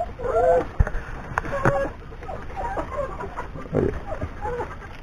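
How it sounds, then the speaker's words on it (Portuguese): Farm chickens in a rural yard cluck and call in short bursts, moderately close, with a few sharp knocks and scattered sounds around them against a quiet background. "Então essa aí é a nossa criação aí de galinha."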